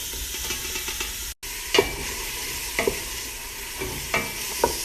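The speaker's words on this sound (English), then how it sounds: "Stir these onions." Onions being stirred in sizzling olive oil in a soup pot, a steady close hiss broken by a few distinct scraping strokes of the spoon against the pot.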